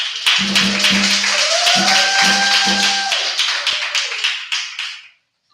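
An audience at a live Goldsboro performance night claps in a steady burst, with sharp claps mixed over sustained tones and a low repeating hum, fading out near the end.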